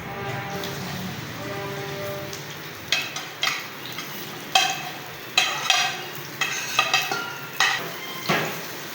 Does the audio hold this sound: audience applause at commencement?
no